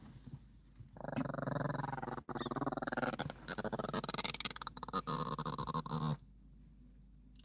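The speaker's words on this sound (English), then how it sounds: "She's growling" A dog growls up close after being lifted out of her bed, a long, low rumbling grumble that rises and falls in several sustained stretches before stopping.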